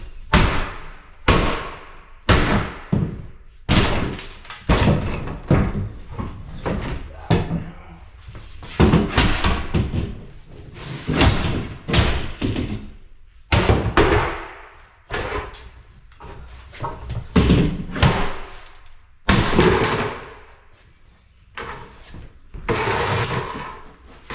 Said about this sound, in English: These doors knock out really easy.